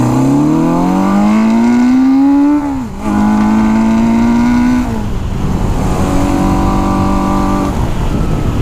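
An old auction motorcycle engine running roughly, loud and close, its pitch rising then dipping sharply before settling into an uneven, labored idle.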